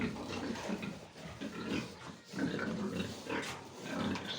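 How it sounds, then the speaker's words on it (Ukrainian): Fattening pigs in a farm shed grunt and snuffle continuously at close range, giving a dense, low, rumbling chorus with no talk over it. "пошли подивимося, що тут у нас з поросятами"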